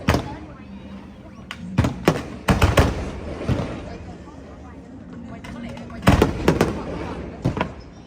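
Fireworks burst over Da Nang in sharp, loud cracks and booms, clustered around the start, the middle and the end, with a crowd murmuring and people talking throughout.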